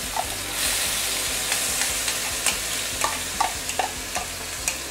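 Chili paste sautéing in a hot pan, a steady close sizzle and fry with repeated light scrapes and clinks of a utensil stirring, no voices.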